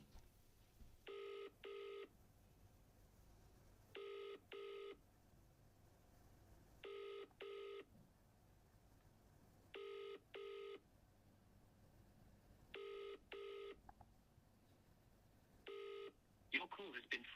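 Telephone keypad tones beep in short paired bursts, repeating about six times at regular intervals as a number is dialed, fairly clear over a quiet room with faint background noise.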